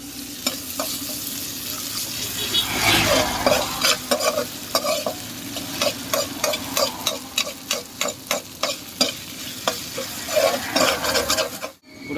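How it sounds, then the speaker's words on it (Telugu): Ginger garlic paste fries with onions in hot oil while a spoon stirs and scrapes the pan in quick rhythmic strokes over a steady sizzle, close and clear with no talking. "ఇప్పుడు ముందుగా ప్రిపేర్ చేసుకున్న అల్లం వెల్లుల్లి పేస్ట్ వేసుకున్నాం"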